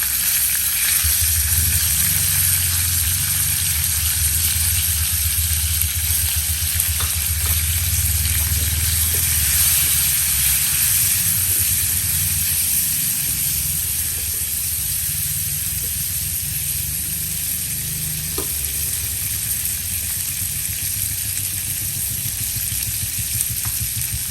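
Loud, steady sizzling of petai beans frying in a hot pan, continuous crackle and hiss with occasional stirring.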